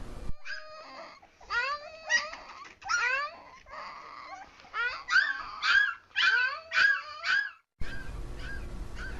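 A 15-day-old puppy abandoned by its mother cries and whimpers in a series of high, wavering yelps, close and insistent, with short pauses between.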